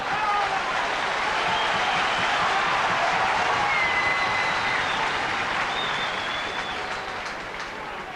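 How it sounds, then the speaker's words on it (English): Stadium crowd at a 1989 rugby match between Swansea and the All Blacks, a steady broad roar of cheering and clapping that holds throughout, easing off slightly near the end. "the crowd just building up a little bit of excitement"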